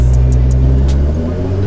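A Nissan GT-R R35 street car drives through night traffic in Kingston, Jamaica, its steady low exhaust drone rumbling close and loud with no voices.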